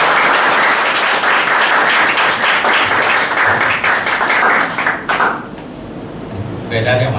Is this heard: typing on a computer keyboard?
no